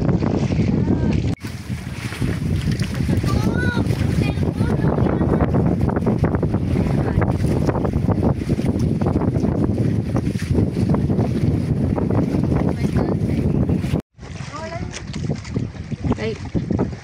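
A motorboat engine drones at sea, its rough, continuous rumble mixed with heavy wind buffeting and waves, while people talk over it throughout.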